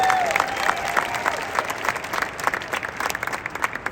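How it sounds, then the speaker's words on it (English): Audience applause at Veecon 2022, a dense steady clapping from a crowd that holds loud for the full few seconds with a faint tone near the start. "Let's clap it up."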